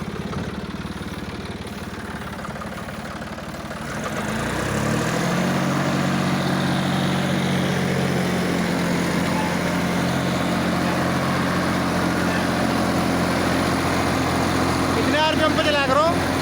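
John Deere 5310 55 hp tractor with a super seeder, engine starting after a quiet stretch and then running with a steady low rumble, loud and close, while people talk nearby.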